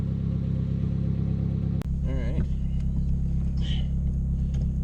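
A Toyota Corolla fitted with a cut-down short shifter on a back road: a steady engine drone and rumble from inside the cabin, broken by a sharp click or bump and a gear change with shifting engine tone.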